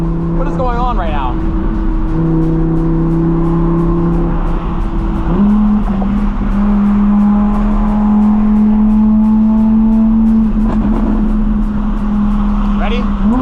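Audi R8 engine droning steadily at close range in the cabin on a night drive, with rising and falling engine notes and occasional crackles, while voices talk over it throughout.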